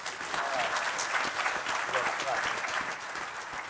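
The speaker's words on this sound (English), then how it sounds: "So round of applause for all you proper artists" Steady applause from a convention panel audience at PAX East 2016 fills the whole stretch, dense clapping with no pauses, fairly loud and close.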